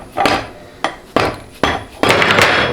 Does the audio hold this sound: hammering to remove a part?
yes